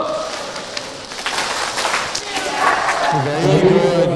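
An audience at an educators' forum claps together, a rapid, busy patter of many hands that swells toward the end as voices start calling and chanting over it.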